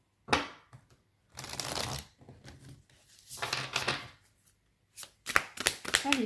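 Tarot cards are shuffled in several separate bursts of soft riffling and flapping, with short pauses and light taps between them, close and fairly quiet.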